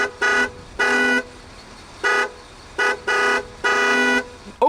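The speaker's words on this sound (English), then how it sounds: "Take a listen to the horn." A Bentley Azure horn sounds in six short blasts of uneven length, a loud bright two-tone honk with clear silent gaps between presses, recorded close by.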